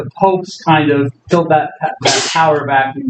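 A sneeze bursts out between a lecturer's sentences in a classroom, one short sharp noisy burst close by, with speech continuing on both sides.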